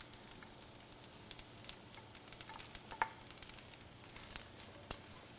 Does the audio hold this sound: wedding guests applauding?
no